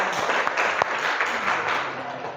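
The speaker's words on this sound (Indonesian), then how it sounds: "Berikan tepuk tangan juara 1 dulu" Crowd applause, a steady wash of many hands clapping throughout, with a few voices mixed in.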